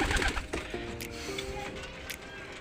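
A racing pigeon coos in soft, low, rolling notes over a noisy outdoor background, with faint voices nearby.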